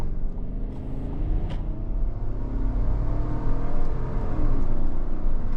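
A Chevrolet Tahoe SUV engine with a 10-speed transmission rumbles and builds steadily as it accelerates, a low continuous roar that grows slightly louder toward the end.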